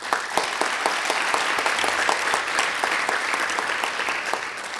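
Sustained crowd applause at a passenger data exchange conference session, dense and even clapping from many hands, loud and close, continuing steadily without speech.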